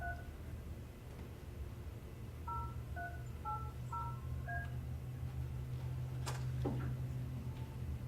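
Keypad tones from a desk telephone dialing out during a school board meeting, a short run of distinct beeps over a steady room hum, with a loud ringing burst near the end.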